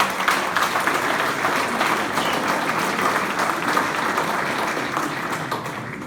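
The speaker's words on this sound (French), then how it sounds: "je crois qu'on peut applaudir les Manésiens" An audience at a New Year's wishes ceremony in Saint-Mammès applauds the town's residents, a sustained dense crowd clapping that holds steady and fades slightly at the end.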